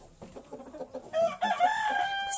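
Chickens in a coop cluck in short bursts, then a rooster crows loudly and close, with a sustained call that fills the last second.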